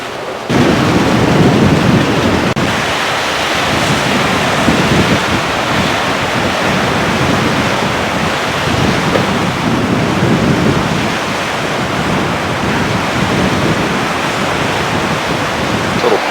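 Steady, dense ocean surf washing around a small flat peninsula on Kaua'i, Hawaii, a continuous loud roar of breaking waves with wind-like hiss and no voices throughout.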